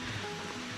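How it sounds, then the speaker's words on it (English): A stream flows on the Manoa Falls Trail on Oahu, a steady, broadband rush of water running throughout without a break, even and moderately close, with no voices over it. "If you can hear that stream in the background, we're leading to a waterfall"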